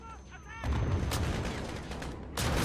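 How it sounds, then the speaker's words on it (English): Loud bursts of gunfire and incendiary rounds erupt in Call of Duty Modern Warfare after a quieter lead-in, with sharp blasts and sustained firing that drop slightly before a final heavy volley. "So I'm pretty certain incendiary rounds like this are illegal."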